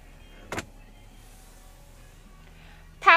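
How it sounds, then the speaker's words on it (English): The power moonroof on a 2015 GMC Terrain, with a short motor whir early on and a brief mechanical sound at the end, both faint in a quiet cabin. "Power moonroof."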